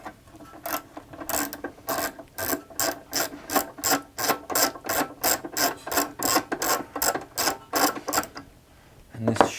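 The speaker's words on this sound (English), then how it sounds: "undoing this large screw bolt thing here" A large screw bolt is undone on an Apple IIc monitor stand, giving a loud, close, steady ratcheting click, about twenty even turns in a row, ending with a brief clunk.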